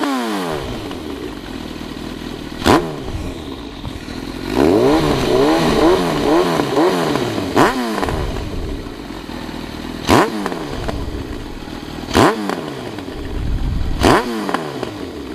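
A motorcycle with a Leo Vince exhaust fitted with a baffle revs in several sharp, loud bursts over a rumbling idle, close by, with a few clicks and clatters between blips.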